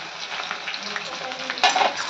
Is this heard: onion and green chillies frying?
yes